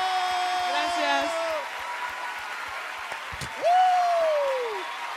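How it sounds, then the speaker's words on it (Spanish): Applause from a studio audience on a children's singing talent show, steady clapping under sung or held vocal tones and a voice in the foreground, swelling briefly toward the end. "Que se escuche ese aplauso"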